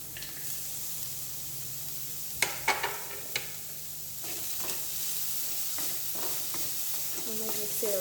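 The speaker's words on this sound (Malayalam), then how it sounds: "നമുക്കിതിലേക്ക് 1 ടേബിൾ സ്പൂൺ ക്യാപ്സിക്കം ചേർത്ത് കൊടുക്കാം." A tablespoon of chopped capsicum goes into a frying pan for a crispy evening snack, giving a soft, steady sizzle with a few sharp clanks of stirring midway and no talk.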